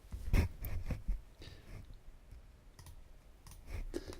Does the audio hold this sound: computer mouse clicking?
yes